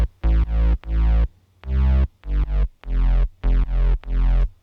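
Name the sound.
FM saw synth drop bass layered with sub, sidechained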